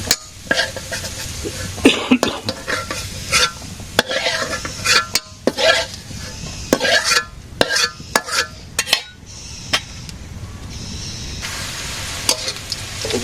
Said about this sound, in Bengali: এখন আলুটা আলু ভাজি হয়ে গেছে